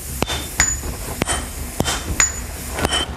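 Large hammers strike red-hot iron in traditional steel forging, sharp metallic blows landing about every half second, loud and close, some ringing with a brief tonal ping before the next hit.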